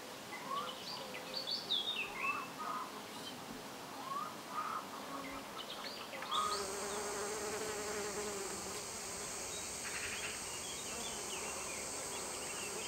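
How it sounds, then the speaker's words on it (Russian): Bees and bumblebees buzz around sunflower blossoms, close droning hums that come and go, joined by birdsong early on and later a steady insect drone. "Насекомые, в особенности пчелы и шмели, опыляют цветки подсолнечника"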